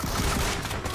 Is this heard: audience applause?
no